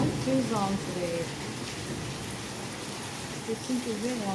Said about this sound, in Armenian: Տեսինք ուժեղ անձրև եկավ։